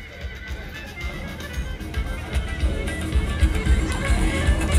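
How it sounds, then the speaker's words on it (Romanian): A five-year-old horse neighs at a horse parade in Baia Mare, Maramures, a whinny heard amid crowd noise and hoof sounds, fairly close and moderately loud. "Cu calul Iancu de 5 ani"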